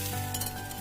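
Ladled batter pan-fries in a covered pan over medium-low heat, a continuous close sizzle with a faint clink of metal, steady throughout the short moment.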